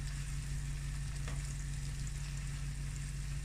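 Pine nuts and onions sauté in a pan, a soft, even frying hiss running steadily throughout under a low constant hum, with no talking.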